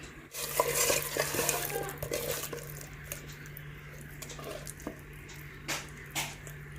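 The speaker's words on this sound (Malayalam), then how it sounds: "ഒരല്പം വെളിച്ചെണ്ണ ചേർത്ത് നന്നായി ഒന്ന് മിക്സ് ചെയ്ത് കൊടുക്കാം" Fish masala being mixed with coconut oil by hand or spoon, soft wet squelching and stirring close by, with a few sharper clicks, no talking.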